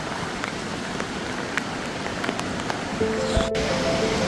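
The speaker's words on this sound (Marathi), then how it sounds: "पावसाचा जोर वाढलेला आहे" Heavy monsoon rain pours down at Devkund waterfall, a steady dense wash of falling water with a few louder drops and a slight swell near the end, no voices.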